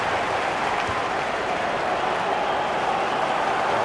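A stadium crowd cheers in FIFA 16 during a Bournemouth versus Manchester United match, a dense, continuous roar of noise at an even level throughout.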